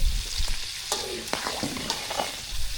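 Brinjal being sautéed and stirred in a pan, with a dense close sizzle broken by quick spatula scrapes and stirring strokes at an uneven pace, fairly loud and without speech.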